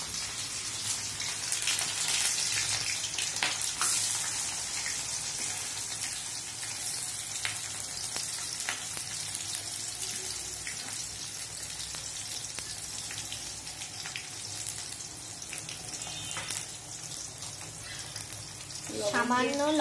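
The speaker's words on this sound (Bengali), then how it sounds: "আমার পেঁয়াজ ভাজা হয়ে গেছে।" Chopped onions sizzle steadily in a hot pan with bay leaf and cumin for prawn dopiaza. The frying is a close, continuous crackle with faint stirring clicks, and a voice starts speaking at the very end.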